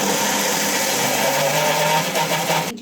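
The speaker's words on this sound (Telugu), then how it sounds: "ఇంట్లో కొంచెం గొరగరు సౌండ్ వస్తుంది కదా, అది చెక్క అనమాట, దాల్చిన చెక్క." A mixer grinder whirring at high speed as it grinds a spice paste containing cinnamon sticks, a loud, steady, close motor roar that stops abruptly at the end.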